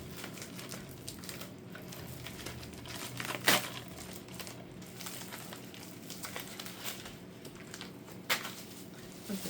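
Tissue paper crinkles and rustles softly up close as an action figure gift package is unwrapped, with a couple of sharper crackles standing out from the continuous handling noise.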